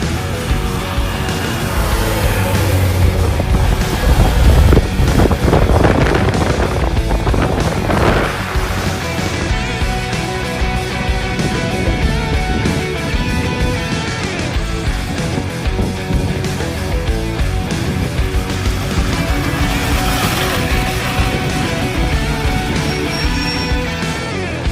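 Motorbike ridden fast on the road, with a steady roar of engine and rushing wind buffeting the microphone throughout. The noise stays loud and continuous with no clear speech.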